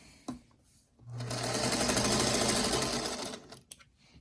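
A sewing machine stitches quilt block pieces together in one steady, loud whirring run of about two and a half seconds, with quieter handling noises before and after.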